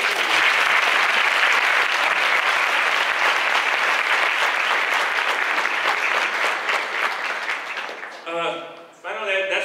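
Loud, sustained applause from a large audience at a university Chinese New Year gala fills most of the clip, then fades as a voice begins speaking over the last moments.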